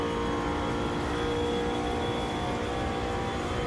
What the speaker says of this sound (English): GT1 cars also sound amazing in this.